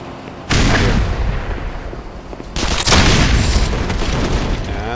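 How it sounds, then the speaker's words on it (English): A grenade goes off in the video game Black Mesa: a sudden loud boom, then a second heavy blast a couple of seconds later, each leaving a rumbling, crackling tail close by. "And that was my grenade."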